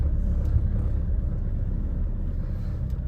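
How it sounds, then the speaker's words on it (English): An AWD Ford Kuga with a drivetrain fault drives with a heavy, steady low rumble and shuddering vibration from inside the car, and its rear wheels skid. "Real bad vibration. I can hear the rear wheels skidding."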